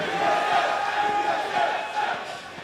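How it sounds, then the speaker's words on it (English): A large crowd in an esports arena at a TSM versus Cloud9 playoff final chants team names, a dense roar of many voices rising and falling in rhythmic swells. "The battle of the team names by the crowd right now."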